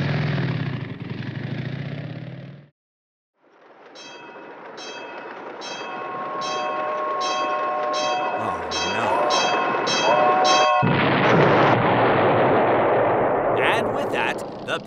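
A train rolls past in an animated show, building from a rumble into a loud, sustained clatter with repeated rhythmic horn-like tones and a final roaring rush, following a brief silence.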